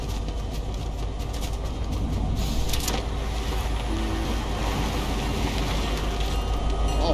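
A train in the Fortnite video game rumbles along with a steady mechanical drone and clattering rail noise, continuous and fairly close, with no voices over it.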